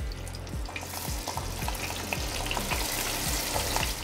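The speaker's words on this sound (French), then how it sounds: "on les passe à la friteuse et on en profite pour frire les gambas" Gambas and risotto croquettes deep-fry in a fryer, a dense, constant bubbling hiss with rhythmic low thumps throughout, close and loud, with no talking.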